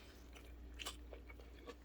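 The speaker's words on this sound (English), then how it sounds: "It's so crispy, so crunchy" Quiet crunchy bites into a crispy air-fryer chicken sandwich, a few sharp crackling crunches close to the mic, faint and brief.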